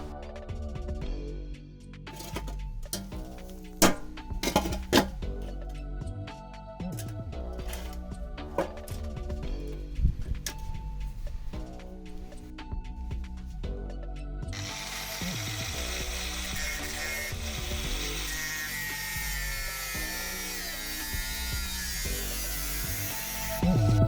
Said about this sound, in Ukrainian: А поки що зараз будемо дорізати болгаркою.